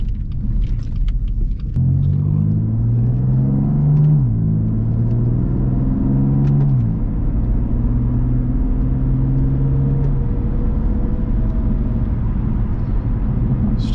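A 2018 BMW M3 Competition F80 with the DCT gearbox pulls away from a parking lot exit, its engine rumbling loud and close with rising and falling revs and quick gear changes, steady throughout with no talk.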